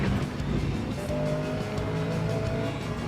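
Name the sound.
V8 car engine at a tuner car event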